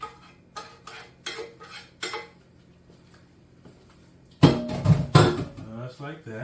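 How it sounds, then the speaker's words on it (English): Enchilada pie meat mixture spooned into a baking dish, giving a string of separate utensil clinks and scrapes against the dish, with louder clattering near the end as someone talks. "And now we're just going to put the rest of our meat mixture in here."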